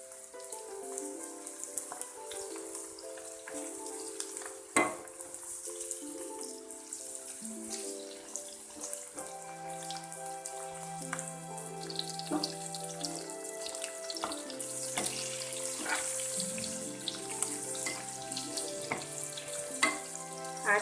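Stuffed gunda fruit cooking in oil in a pan, a soft continuous sizzle with occasional stirring knocks, quiet and close with no voices.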